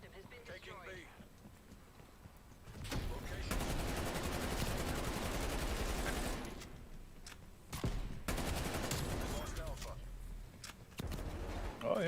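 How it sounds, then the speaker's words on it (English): Rapid bursts of gunfire in a video game shooter, loud and dense in two long stretches with brief gaps between, heard under and between people talking. "Oh, someone is shooting."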